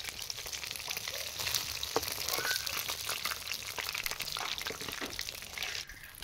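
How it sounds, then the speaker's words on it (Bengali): Pieces of a large 5 kg fish sizzle and crackle steadily in hot oil as they are fried and lifted out, a dense, close frying noise with occasional clinks and no talk. "এখন ভাজা মাছটা তুলে নিলাম।"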